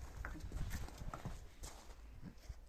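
Hooves clop softly and irregularly as Percheron horses walk, faint and somewhat distant, with a low background rumble.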